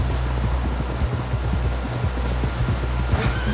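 Steady clip-clop of horse hooves at a trotting rhythm in Red Dead Redemption 2, loud and close, over a low rumbling background with no talking.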